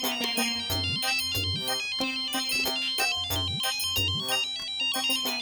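A phone ringtone plays a repeating electronic melody in bright, evenly spaced phrases, sounding alone at moderate volume for several seconds.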